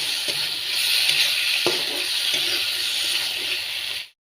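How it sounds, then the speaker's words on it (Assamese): Ground cumin, coriander and chili powder with mixed spice fry in hot oil for a tomato and fish curry. A dense, bright sizzle carries steadily with a couple of stirring knocks, then stops abruptly. "এতিয়া মই অকণমান সময় ভাজি ল'ম"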